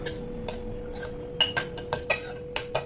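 A metal utensil clinks and scrapes against a pan while coconut is dry-roasted for sesame laddoos, with several light, irregular taps over a steady low hum.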